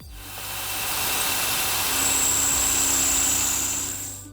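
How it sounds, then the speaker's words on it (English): Power drill boring bolt holes in a supercharger bracket for a Vortech kit on a 2018-2023 Mustang GT, a steady whining drill that rises into a sustained high pitch midway, close and alone. "And then drill."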